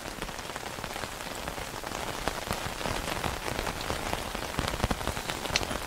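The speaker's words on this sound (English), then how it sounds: "It's been raining most of the night." Steady rain pattering on a tent surface at night during a wild camp in wet weather, a dense continuous hiss with scattered individual drop taps, fairly close and even throughout with no talking.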